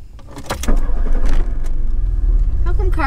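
A cold 1984 Volkswagen Rabbit GTI engine cranks and catches, a rising starter churn that settles into a steady idle, close by and loud, with voices talking over it.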